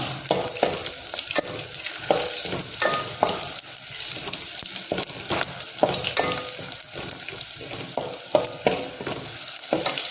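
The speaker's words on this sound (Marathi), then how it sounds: "म्हणजे लसूण थोडी लाल होत आली आहे" Garlic sizzles and fries steadily in a hot pan for a raw jackfruit curry, a continuous crackling hiss broken by repeated sharp scraping stirs of a spoon against the pan, with no talking.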